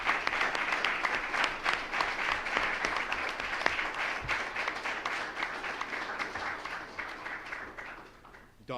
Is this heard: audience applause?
yes